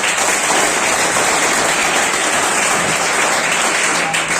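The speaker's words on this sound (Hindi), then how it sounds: "तो ऐसे जीतराम जी के लिए तालियां एक बार।" Audience clapping at a Teacher's Day event, a steady wash of applause for an honoree, continuous and fairly loud throughout before cutting off.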